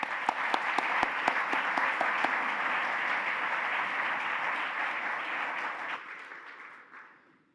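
Audience applause welcoming a panel to the stage at an Economic Club of Canada event, steady dense clapping from a large crowd that holds for about six seconds and then fades away.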